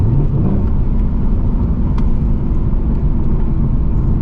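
Steady, loud low engine rumble from a 2024 Ford Mustang GT V8 settling after a hard acceleration run, heard close from inside the car as a continuous drone with no talking.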